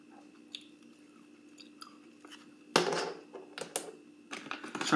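Someone chews beef sticks close to the mic, with quiet wet chewing followed by sharper crunching bites in irregular bursts.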